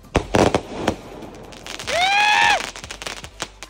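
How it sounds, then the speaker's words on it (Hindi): A Diwali firework rocket goes off close by with sharp cracks and pops, then a loud rising whistle as it climbs, followed by further bangs and crackles. "देखते हैं भाई ये वाला रॉकेट कितना ऊपर जाता है"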